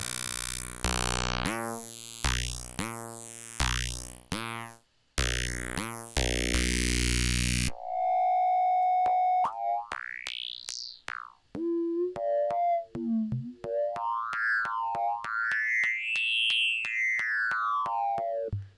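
A Karplus-Strong plucked-string synth lead with gritty, drive-distorted harmonics plays a run of short plucked stabs, then slides into sweeping, bending tones, loud throughout with no other sounds.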